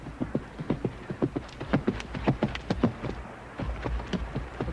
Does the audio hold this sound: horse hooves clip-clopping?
yes